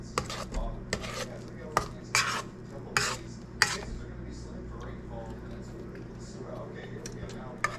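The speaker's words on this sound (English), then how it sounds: "Might mix it up a little bit more." Meat loaf mixture being worked in a bowl, with repeated knocks and scrapes of a utensil against the bowl at an irregular rhythm over a steady low background hum, close and moderately loud.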